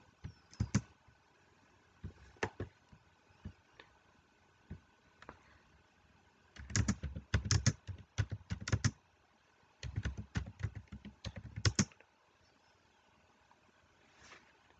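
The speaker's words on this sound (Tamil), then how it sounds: "இது என்னுடைய மனுக்கு தகுந்தாப்பில் நான் டைப் பண்ணுறேன்" Typing on a computer keyboard, close and clear, with scattered single key clicks, then two dense bursts of rapid keystrokes separated by pauses in a quiet room.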